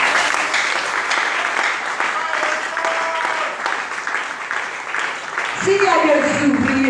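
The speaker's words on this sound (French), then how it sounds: "J'aimerais que tu l'acclames pour ça." A church congregation claps loudly and steadily at a service, a dense, sustained applause from a crowd that runs almost the whole time, with voices rising near the end.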